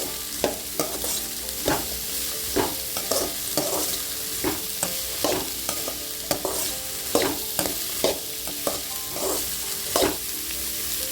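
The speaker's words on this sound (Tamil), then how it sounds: "நல்லா மொறு வரைக்கும் வணக்கிக்கலாம். பார்த்தீங்கன்னா பாவக்காய் இந்த அளவுக்கு வதங்கிருச்சு." Bitter gourd for a Kongu-style thokku stirred and fried in a pan, with a steady sizzle under regular scraping strokes of the spoon, close and continuous with no talking.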